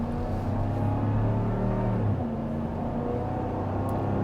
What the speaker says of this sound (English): you do hear a little bit of tire noise